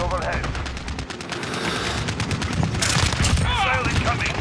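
Dense, near-continuous automatic gunfire from a Call of Duty: Modern Warfare Ground War match, with rapid overlapping bursts that stay loud throughout, while players' voices come through over the shooting.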